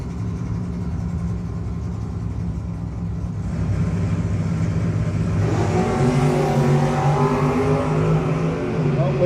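A Pontiac race car roars up to speed in a drag race, its engine building from a steady drone into a loud, rising rev close by, with crowd and track noise underneath.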